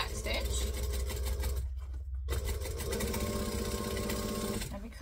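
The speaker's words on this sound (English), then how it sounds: "And then I'm going to stitch and back stitch." A sewing machine stitches and back stitches through a fabric craft tote, running in a steady loud mechanical whir that pauses briefly midway before resuming.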